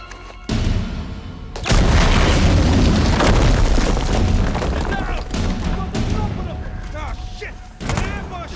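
Grenade explosion in the Uncharted 4 action game, a heavy booming blast followed by a sustained rumble with scattered gunfire and further bangs, loud throughout, with a player shouting over it.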